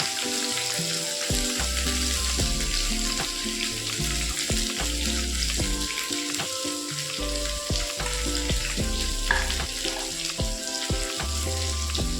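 Chopped onion dropped into hot oil with cumin seeds, frying in a steady, loud sizzle with scattered crackles and occasional clinks of a utensil, no voices over it.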